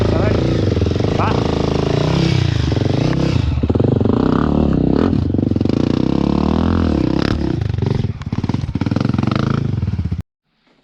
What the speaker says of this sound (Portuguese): Acelera, acelera. Vai!